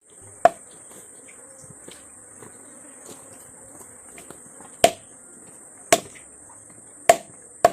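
A knife chopping through a large fish, giving five or six sharp, isolated whacks spaced unevenly over a quiet background with a steady high insect-like whine.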